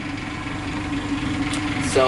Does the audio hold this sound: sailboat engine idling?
yes